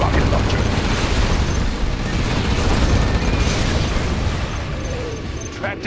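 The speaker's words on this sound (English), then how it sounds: "booming rocket launcher" A rocket launcher in Command & Conquer: Generals, during a China mission, lets out a dense, sustained roar of explosive rumble that stays loud and continuous throughout, with only slight fading near the end.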